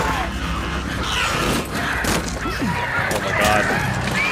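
A flock of infected, hyper-aggressive birds in Days Gone squawks and honks in a dense, continuous racket. Harsh calls and crashing noises overlap, loud and near throughout.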